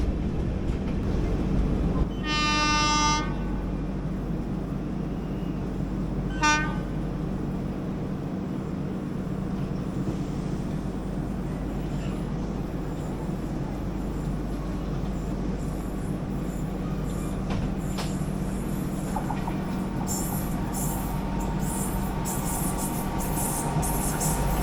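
A train runs on an Indian railway line with a continuous low rumble of wheels on track. Two sharp horn blasts sound early on, and squeals and clatter come later, with faint voices now and then.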